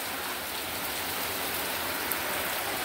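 Steady rain falling outdoors on a rainy day beside a home kitchen, a dense even hiss with no break and no voices.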